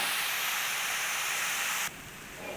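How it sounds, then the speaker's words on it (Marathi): Grated carrot sautés in hot ghee for carrot halwa, giving a loud, steady frying hiss that suddenly drops to a softer sizzle near the end. "छान असा गाजराचा खीस मस्त तुपामध्ये परतून घेऊयात"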